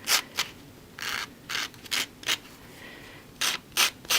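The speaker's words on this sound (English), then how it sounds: "I took some sandpaper and a sanding block and I started to smooth out my edges" Sandpaper on a sanding block rasps in short, separate bursts, a gritty scraping stroke repeated about nine times at an uneven pace with brief pauses, smoothing the edges of an Easter banner.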